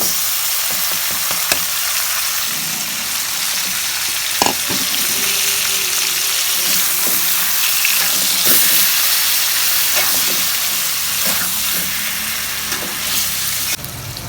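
Marinated pangas fish fries in hot oil with a loud, steady sizzle and hiss, broken by occasional clinks and stirring scrapes from a utensil.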